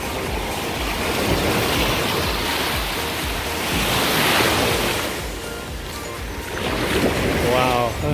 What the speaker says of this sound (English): the tide is coming closer